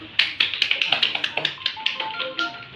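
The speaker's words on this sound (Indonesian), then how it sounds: "kita kasih aplaus untuk kelompok Zaitun" A class of students claps for a group at a school lesson, a quick run of sharp, close handclaps in a rough steady rhythm that thins out and tapers over a couple of seconds.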